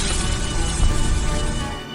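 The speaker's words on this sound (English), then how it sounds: "That's the sound of sizzling, dry-aged USDA Prime Wagyu and Angus steaks from UpperCutChops.com" Dry-aged USDA Prime Wagyu and Angus steaks sizzle loudly in a steady, dense crackling hiss, close and continuous with no pauses or talking.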